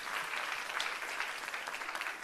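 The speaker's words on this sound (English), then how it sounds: "Let's hear a round of applause." An audience at a design forum applauds for a couple of seconds, many hands clapping in a dense, even patter that stays fairly soft and steady throughout.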